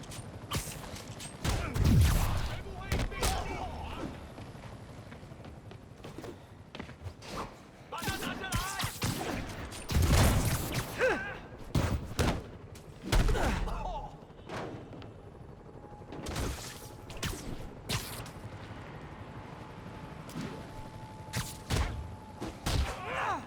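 Sniper gunfire in the video game Marvel's Spider-Man, sharp irregular shots cracking out in clusters amid whooshes and game action, some loud and close, others fainter, with brief voices between.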